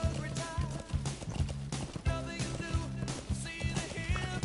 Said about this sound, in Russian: Можно, я думаю, вызвать лошадку.